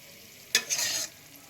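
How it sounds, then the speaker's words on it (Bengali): Garam masala spice poured over paneer pieces in a pan with the heat just turned off, a short close hissing rustle lasting about half a second, then quiet. "এই গরম মশলাটা দেখো এই পনিরগুলোর উপরে আমি ঢেলে দেবো"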